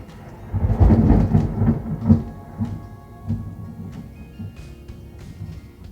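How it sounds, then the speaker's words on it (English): Thunder rolls in the distance during a storm, a low rumbling swell that peaks early, then fades and mutters on at a lower level for several seconds. "yes, that was thunder."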